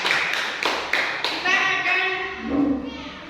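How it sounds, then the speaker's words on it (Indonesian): Classroom pupils clap in unison for a classmate named Zara during an Indonesian primary school lesson on solid shapes, several sharp synchronized claps followed by a voice trailing into a sustained tone. "tepuk tangan untuk Zara"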